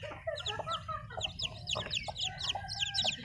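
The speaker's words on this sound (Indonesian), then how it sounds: "Lima anak ayam lagi." Hens cluck among newly hatched chicks, whose rapid high peeping chirps repeat throughout. The sound is close and steady, with soft background noise and no talking.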